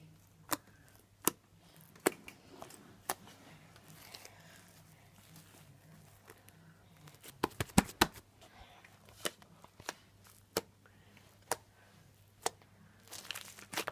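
Homemade Valentine's slime on a table is poked again and again for ASMR, giving faint, sharp, sticky clicks and pops spaced irregularly over near silence.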